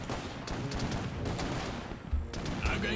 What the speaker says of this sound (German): Der Mörser kann hier vorne weiterhelfen. und schießt auf